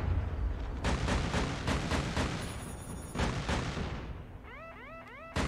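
Heavy video game gunfire and booming blasts in rapid repeated bursts, loud and close, easing after a few seconds into lighter electronic effects and a final sharp shot.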